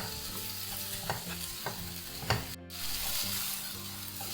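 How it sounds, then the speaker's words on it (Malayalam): Chicken filling for South Indian momo sautés in a pan, a steady close sizzle and frying hiss broken by several soft scrapes and taps of stirring, with a brief gap partway through. "എന്നിട്ട് നമുക്ക് ഇത് നല്ലപോലെ ഒന്ന് കുറച്ച് സമയം ഒന്ന് വഴറ്റി കൊടുക്കാം."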